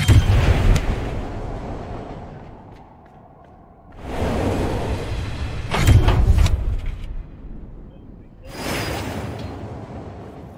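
A train in the Darq video game rumbles past in several heavy whooshing passes, each rising loudly and fading, separated by quieter stretches.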